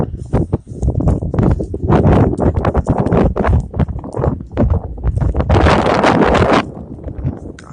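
Wind buffets the microphone in a continuous loud, low rumble that surges and gusts throughout, with no voice over it.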